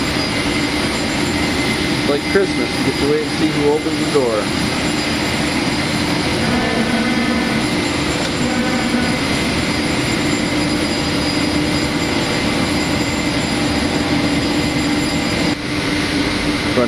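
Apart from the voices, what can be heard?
airport jetway being moved up to an aircraft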